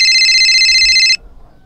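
A telephone rings with a loud, steady electronic ringtone that cuts off abruptly after about a second, leaving a quiet room with faint low rumble.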